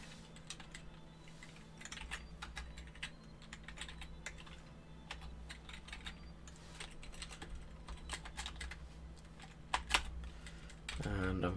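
Steady clatter of typing on a computer keyboard during a web game coding session, quick irregular key clicks in bursts throughout, fairly close, with a faint low hum underneath.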